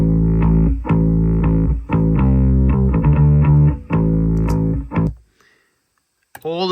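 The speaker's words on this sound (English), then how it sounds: "You can hear that distortion on it." A gritty, overdriven bass riff plays loud and steady in repeated bursts, then cuts out to near silence before a brief noisy scrape at the end.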